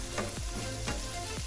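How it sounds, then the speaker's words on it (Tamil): Carrots and other vegetables fry in hot oil for kottu parotta, a close, constant sizzling hiss broken by a few scraping stirs of a utensil against the pan. "பிறகு கொஞ்சம் ஆயிலை போடுவோம். போட்டு லைட்டாக மிக்ஸ் பண்ணுவோம்."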